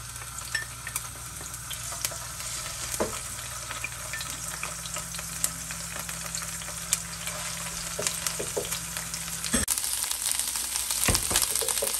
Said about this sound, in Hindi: अदरक लहसुन को आप थोड़ा सा भून लें